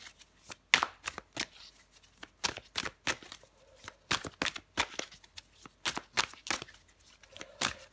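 Tarot cards shuffled by hand, close and crisp, with repeated riffling bursts in an uneven rhythm and brief pauses between them.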